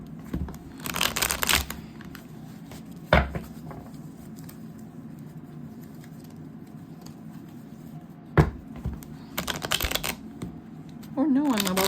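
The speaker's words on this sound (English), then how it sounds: "Oh no, I'm about to destroy my cards, as usual. Alright, so I'll shuffle." Tarot cards being shuffled in a reading, with several short bursts of riffling and flicking separated by quieter stretches, close to the microphone, with a person's voice murmuring lightly in between.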